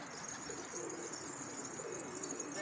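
Pigeons in a loft cooing faintly amid a constant hiss of background noise, soft and distant with no clear individual calls standing out.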